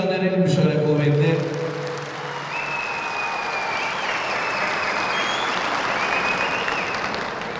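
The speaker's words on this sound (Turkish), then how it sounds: "Buradan bir Çamlıdere'ye alkış gönderelim şöyle kuvvetli." A crowd at an outdoor event in Çamlıdere, Ankara, breaks into loud, sustained applause after a voice ends, the dense clapping continuing steadily with a faint whistle above it.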